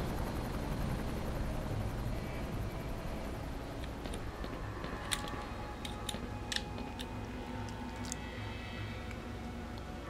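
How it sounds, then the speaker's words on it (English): A helicopter flies in the Black Mesa game world, a steady broadband rotor drone holding for about ten seconds, with faint high ticks and clicks scattered across the second half. "Helicopter."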